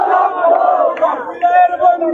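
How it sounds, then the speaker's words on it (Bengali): Students shout in unison at a street protest, a dense crowd chant of sustained, loud voices close by. "শিক্ষার্থীরা নতুল্লাবাদে বিক্ষোভ করছে।"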